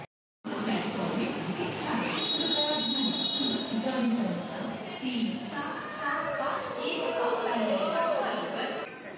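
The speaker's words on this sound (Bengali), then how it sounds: "আমাদের ট্রেন অবশেষে এসে পৌঁছালো ব্যান্ডেল জংশন স্টেশনে" A Howrah–Bandel local train rumbles along steadily on the rails with a squeal of wheels, while passengers talk throughout over the constant carriage noise.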